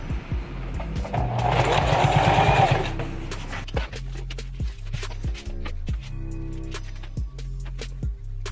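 A sewing machine stitches backpack straps for a homemade ultralight pack, opening with a sustained fast whirring run that gives way to short stop-start bursts of needle chatter, close and clear with no talk.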